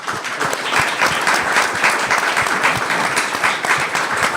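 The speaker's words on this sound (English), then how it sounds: "How about a big round of applause for our panelists?" Audience at a corporate panel event applauding the panelists, a full, crackling burst of many hands clapping close by, steady for several seconds without speech.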